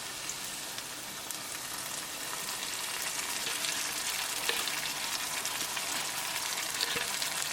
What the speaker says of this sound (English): Cook onion only for 2 minutes.